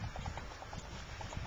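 Hooves of a chestnut horse clip-clop in a steady, regular rhythm at a spring breeding show at Brávellir, moderately near over a continuous background din of the showground.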